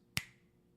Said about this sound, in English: Nick Bonito was in the backfield as fast as I can snap my fingers.